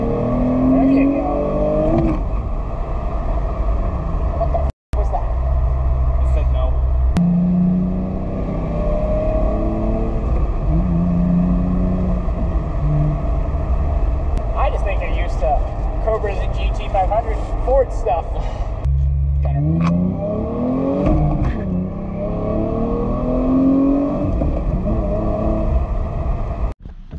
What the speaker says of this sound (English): I got a little carried away driving Dalton's Genesis, but man, is that car fun